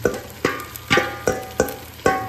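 A utensil stirs upo (bottle gourd) with sardines in a pan, making six evenly spaced scraping clacks about half a second apart over a soft background sizzle.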